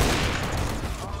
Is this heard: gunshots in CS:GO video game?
yes